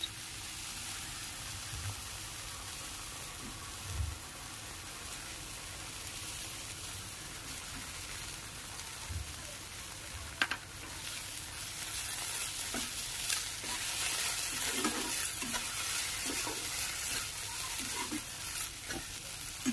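A paste of cashew, poppy seed and fennel is stirred and fried in a pan with ginger-garlic paste for doi katla fish curry, making a continuous soft sizzle with scraping spatula strokes that grow busier toward the end.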